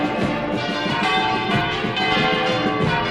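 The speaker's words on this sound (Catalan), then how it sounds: "I les campanes de Santa Maria voltejant" Church bells of Santa Maria swing and clang continuously in a dense, overlapping peal, loud and steady with no voices.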